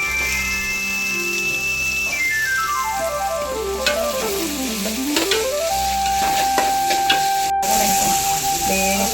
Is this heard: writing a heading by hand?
no